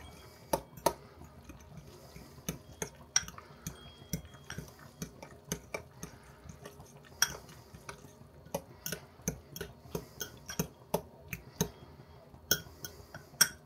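A spoon stirs a thick macaroni and cheese mixture in a pot, giving quiet, irregular clinks and soft wet scrapes against the metal at close range, with no one talking.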